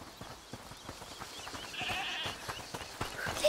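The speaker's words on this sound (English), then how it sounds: "Is that the goat he talked about?" A goat bleats in the video game A Plague Tale Requiem, a muffled, moderately distant call heard over rhythmic ambient thumps and soft background noise, with no talking.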